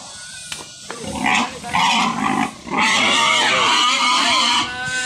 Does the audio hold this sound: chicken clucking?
no